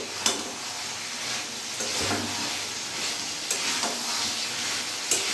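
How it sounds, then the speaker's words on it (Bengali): Spicy kadai chicken fried and stirred in a kadai over a raised gas flame: a steady, close sizzle runs throughout, with periodic scraping stirs and a few sharp clanks of the spatula against the pan. "একটু ভালো করে নাড়াচাড়া করে আমি কষিয়ে নেবো আরও ভালো করে"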